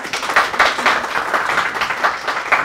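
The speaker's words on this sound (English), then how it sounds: "let's just clap for her." Small group clapping hands during a studio talk show, a brief burst of sparse, uneven claps with a rhythmic pulse, moderately close and without talk.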